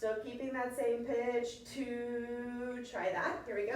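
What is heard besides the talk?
No everyday noises stand out.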